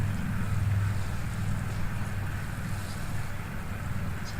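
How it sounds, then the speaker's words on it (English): A garden bed being watered with a steady, even hiss of flowing water close by, unbroken across several seconds with no speech. "I'll water a little bit now, then I'll come back later and water some more."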